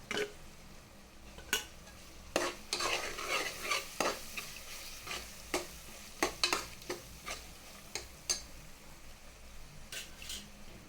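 Masala powders and softened tomatoes are stirred in a pan for chicken biryani, a utensil scraping and clinking against the metal in irregular strokes over a faint sizzle, close and fairly quiet, with no talking.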